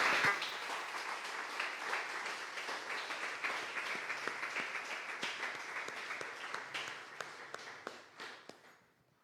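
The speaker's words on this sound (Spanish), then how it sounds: "Damos un fuerte aplauso al Señor." A church congregation claps for the Lord at the end of a Spanish-language sermon, dense applause that gradually thins into scattered individual claps before stopping.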